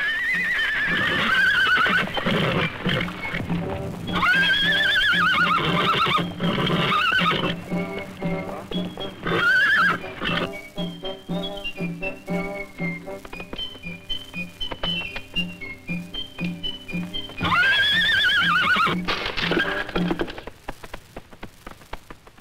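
Horses of a wild herd whinny repeatedly in loud, rising and falling calls, with hooves clip-clopping in between and music in the background.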